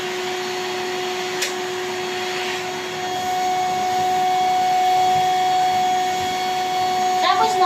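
A Rainbow vacuum cleaner runs with a steady motor whine and broadband rushing air, continuous for the whole stretch and rising slightly in level midway, with a few small knocks near the end.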